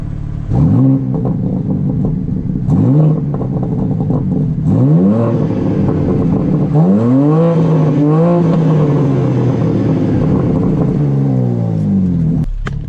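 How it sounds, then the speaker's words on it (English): A 2022 BMW M4 Competition G83 convertible on its stock exhaust is revved repeatedly while parked, each sharp climb dropping back to a deep rumbling idle, loud and close, with bursts growing longer toward the end. "Let me rev it up for you guys right now so you guys can get a little teaser."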